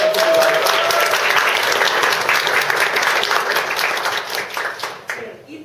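Vigorous audience applause at a gathering fills the room, loud and dense, with a few voices mixed in before the clapping thins out near the end.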